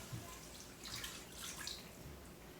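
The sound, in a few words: water poured into an Instant Pot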